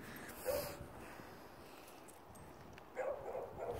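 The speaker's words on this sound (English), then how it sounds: "So that's just barking in the distance." Faint dog barks carry from far off in two short bursts, heard over steady outdoor background noise during a dog walk.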